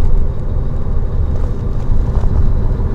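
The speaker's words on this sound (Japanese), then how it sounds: "エンジンの音だけが響き、どこを走っているのかよくわからない車内。" Inside the cabin of a budget overnight highway bus running from Tokyo to Osaka, a deep, steady engine rumble drones on and on, filling the space with no voices.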